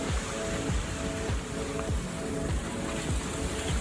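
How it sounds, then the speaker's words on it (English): Choppy ocean waves wash and slap around a sailboat at sea off Cape Hatteras, a continuous loud rushing surge with repeated swells breaking against the hull at roughly half-second intervals. "So we've had a couple waves come up over the top of the Dodger even."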